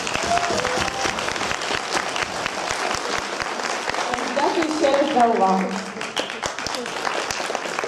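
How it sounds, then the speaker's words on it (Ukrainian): An audience at a youth general assembly conference applauds steadily, a dense wash of clapping that lasts throughout while someone speaks over it near the end. "Я вважаю, що ці оплески ви заслужили."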